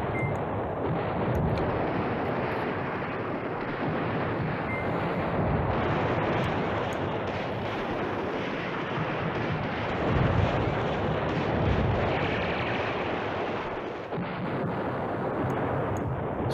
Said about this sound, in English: I've asked this artillery to shoot there and shoot there.